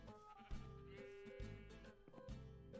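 Sheep bleating in Minecraft, several short blocky bleats at a steady rhythm over background game music, fairly close and moderately loud, with no talking.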